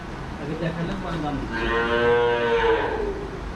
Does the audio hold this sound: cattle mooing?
yes